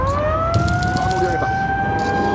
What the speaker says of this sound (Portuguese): Dirigíamos pela cidade ouvindo as sirenes de tsunami.